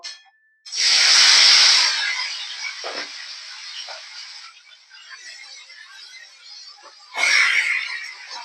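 Chicken hits hot oil with fried whole spices with a sudden loud sizzle that slowly fades to a softer crackle, then flares up again near the end.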